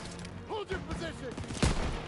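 Gunfire in the Call of Duty WWII video game, with a single sharp shot cracking out near the end amid battlefield noise and shouting soldier voices.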